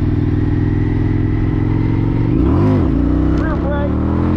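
Harley-Davidson-style FTR1200 motorcycle engine held at a steady loud drone, then throttled up sharply for a wheelie with a rising-and-falling rev surge near the end, with faint talk over it.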